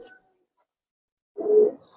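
A young, newly adult Giribaz-type pigeon gives one short, soft coo after a moment of near silence. The call is close but fairly faint.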